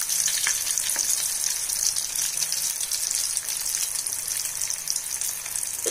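A batch of soya chaap fries in hot oil with a dense, continuous sizzle and crackle, close and loud throughout, with occasional faint stirring sounds.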